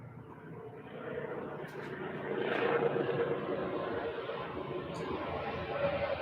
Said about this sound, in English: Why is there so many helicopters?